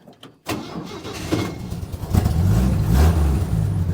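A homemade go-kart built from Chevy C10 parts cranks and fires up after a brief silence, its engine catching and settling into a rough, loud, close idle with uneven revving.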